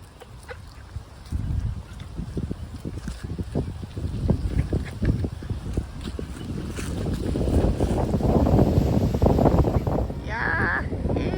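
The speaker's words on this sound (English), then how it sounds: "it's a windy day" Gusty wind buffets the microphone outdoors on a windy October day at a duck and crow feeding spot, with uneven rumbling bursts that grow stronger toward the end and faint bird calls in the background.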